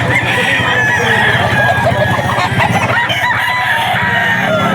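A Spartan Gray gamefowl rooster at a busy pet market crows loudly and close, over constant clucking and crowing from many other fowl nearby, with no clear pause in the din.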